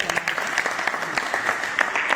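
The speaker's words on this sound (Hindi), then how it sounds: "एक बार जोरदार ताली" A loud round of clapping breaks out at an exhibition of scriptures, a steady, even patter of many hands from a group.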